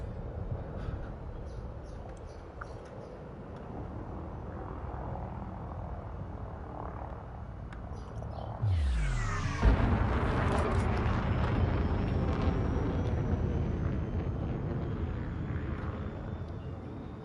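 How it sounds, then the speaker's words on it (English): An Elite Dangerous frameshift drive charges with a rising, swelling whoosh that builds to a loud surge partway through, then settles into a sustained roaring hum. "Frameshift drive charging."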